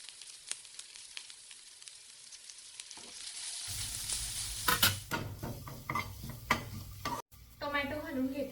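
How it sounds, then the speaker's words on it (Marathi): Chopped vegetables sautéing in a pan for masala oats: a quiet stretch first, then a loud close sizzle with repeated scraping stirs of a spatula against the pan. "ह्या भाज्या थोड्या 2 मिनिटं परतू देऊ"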